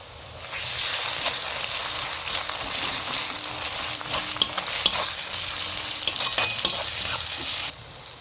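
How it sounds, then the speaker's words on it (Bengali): Ginger paste tipped into a pan of frying onions for a chicken curry sizzles steadily while a spoon stirs and scrapes, with close, continuous frying hiss and occasional sharper clicks. "পেঁয়াজটা ভাজা হয়ে গেছে, এবার আমি আদা বাটাটা দিয়ে দেব।"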